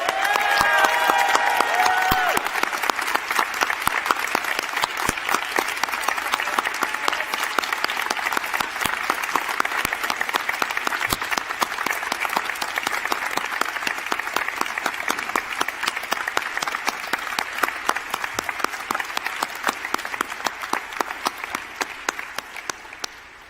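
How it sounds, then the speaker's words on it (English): A large convention crowd at PAX Australia 2017 gives a loud, sustained round of applause that holds steady for over twenty seconds, with a few whoops early on and no talk over it. "if we could give him a round of applause"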